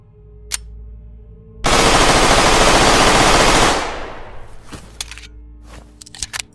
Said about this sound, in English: The G18C, a rare, late-game weapon that must be looted from a bunker. The rate of fire on this thing is downright scary.